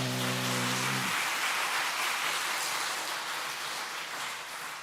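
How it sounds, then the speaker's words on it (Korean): Congregation at a Korean church Sunday afternoon service applauding to bless and encourage the women's mission mothers; dense, steady clapping fills the room after a brief voice, tapering slightly toward the end. "우리 일 여전도의 어머니들 위해서 축복 격려의 박수 해주시길 바랍니다"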